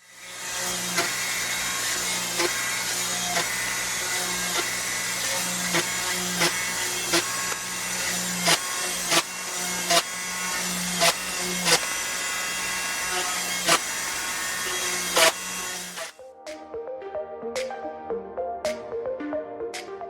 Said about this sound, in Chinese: 我准备了小电钻，在缝之前先把孔钻好